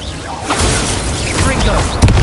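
An Incendio fire spell cast in the video game Hogwarts Legacy gives a dense, continuous rushing burst that fills the whole moment, with a brief thump at the end.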